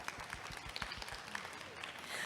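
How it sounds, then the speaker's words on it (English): Brief applause from an audience at a women's business event, a patter of clapping over low voice-like murmur, fairly faint and lasting only a couple of seconds. "Give a round of applause here."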